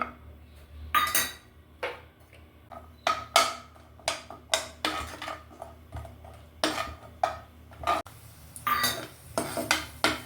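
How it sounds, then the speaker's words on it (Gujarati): Cashews roasting in ghee in a kadai, stirred with a metal spoon that scrapes and clinks against the pan in a run of sharp, irregular strokes, close and loud with no talking. "હવે કડાઈમાં આપણે કાજુને રોસ્ટ કરી લઈશું"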